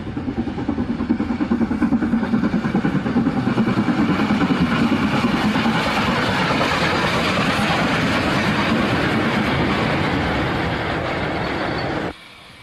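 A train runs on the Hejaz railway in Syria, giving a steady rumbling, clattering drive that holds for about twelve seconds and then cuts off abruptly, with no voices.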